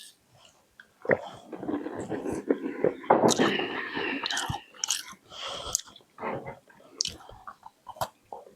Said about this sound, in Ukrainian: Так хрумтять.